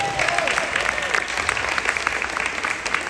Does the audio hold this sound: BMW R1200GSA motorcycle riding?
no